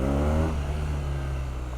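A BMW R nineT Pure motorcycle engine, in its A2-restricted version, revs briefly up close. A harmonic rising whine is followed by a steady lower drone as it settles.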